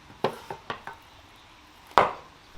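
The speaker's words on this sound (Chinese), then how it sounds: "把那个姜蒜还有泡生姜、泡海椒都给它切碎" A kitchen knife chopping ginger, garlic, pickled ginger and chilies on a cutting board, four quick close chops followed by a pause and then one heavier chop.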